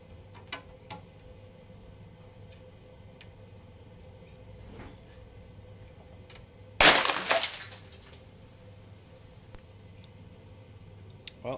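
A pane of safety glass bursts as it is snapped with multi-grips: one sudden loud crack and shattering spray, then a short tinkling of falling fragments over a quiet, humming room.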